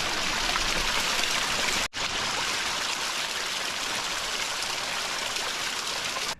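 A mountain stream runs through a channel of big flat rocks on a thawing trail, making a loud, close, constant rushing gurgle with a brief break partway through.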